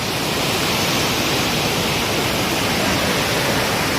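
The Umru waterfall at Baithalangso in West Karbi Anglong roars with a steady, dense rush of falling water, loud and close, unbroken throughout with no voices.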